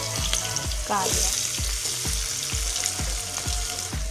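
Mustard seeds, asafoetida and crushed garlic sizzle and fry steadily in hot oil, with a spoon stirring in regular scrapes against the pan about twice a second, close and fairly loud.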